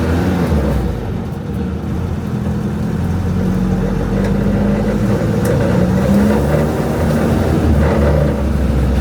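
A Renault 5 Gordini with a worn clutch drives up a ramp on an industrial estate, its mid-pitched engine droning steadily and loudly throughout with slight rises in revs, close by and without speech.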